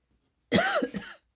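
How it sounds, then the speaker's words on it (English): One close, harsh dry cough in two quick bursts, loud and alone with no talking around it. "Boy, I've got a dry cough today."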